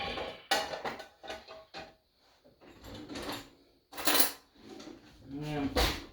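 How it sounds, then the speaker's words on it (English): Franks and beans being stirred together in a baking dish, with a spoon clinking and scraping against the dish in short, irregular bursts, nearby and moderately loud, with brief pauses between strokes. "Now, let me mix that up."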